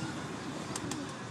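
Pigeons in a loft give soft, low coos that sit faintly beneath a dense wash of steady background noise, with a few brief sharp sounds near the end.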